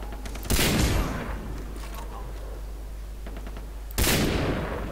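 Loud bursts of gunfire from Far Cry 3 multiplayer, with two heavy volleys about three seconds apart and lighter shots between them, and faint speech in the background.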